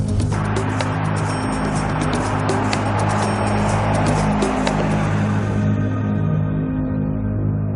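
A car drives up a dead-end street, its steady low engine hum and road rumble running continuously and fairly loud, then fading toward the end with no voices.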